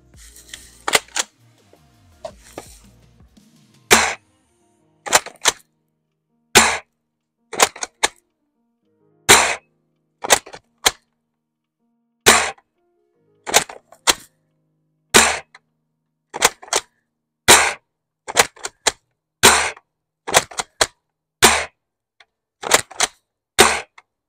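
A Gameface Trion airsoft gun fires at a target about 100 feet away, producing sharp, loud single pops spaced a second or two apart, roughly twenty shots in all, with near silence between them and some faint handling noise at the start.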